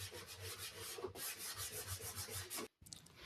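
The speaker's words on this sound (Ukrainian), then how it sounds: "Шліфували все, як завжди, легко. За допомогою шліфувальної машинки" A power sander whirs steadily across wooden kitchen cabinets with a gritty, rubbing hiss, then cuts out briefly near the end before starting again.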